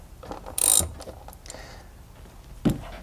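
A ratchet loosens an 8mm bolt on a 2011 Mustang GT engine during a spark plug change, giving a few brief, faint metallic clicks with quiet gaps between.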